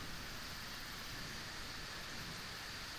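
Steady, dense rain falls continuously, a close and even hiss of drops with no pauses and no voices.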